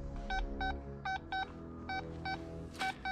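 A metal detector gives a series of short, evenly spaced electronic beeps, fairly faint, repeating about eight times, at a World War I and II era airfield.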